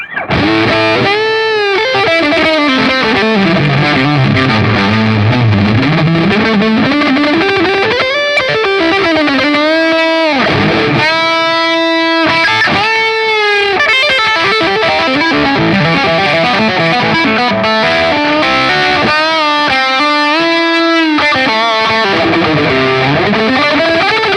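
Electric guitar played through a Line 6 Helix Moon Amp preset set to its classic distortion with the kinky boost engaged, heard alone as a loud, sustained stretch of heavily driven notes and chords for the whole passage.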